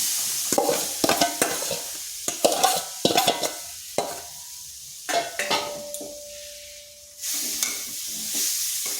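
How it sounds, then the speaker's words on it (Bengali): A spatula scrapes and knocks through a semolina, jaggery and coconut mixture in a hot wok over medium heat, giving a run of quick rhythmic scraping strokes over a soft sizzle, then a steadier hiss. "এটা বেশ কিছুক্ষণ নেড়ে নিতে হবে"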